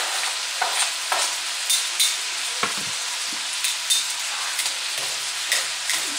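Red onion strips and crab legs stirred in a buttery pan, a steady sizzle broken by repeated scraping strokes of a utensil at an even rhythm.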